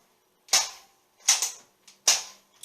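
Nerf Nightfinder toy pistol firing three times with sharp, snappy pops spaced under a second apart, each with a short rattling tail, followed by a faint fourth click; close and fairly loud with no talk.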